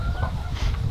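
A chicken inside a fancy backyard coop gives a few short, close clucks over a low background rumble.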